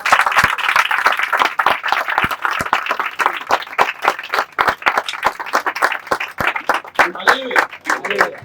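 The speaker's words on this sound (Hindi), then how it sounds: "मैं चाहता हूँ एक बार जोर से हम तालियां देंगे" A church congregation claps loudly with raised hands during worship, a dense, steady stream of close handclaps lasting throughout, with a voice rising briefly near the end.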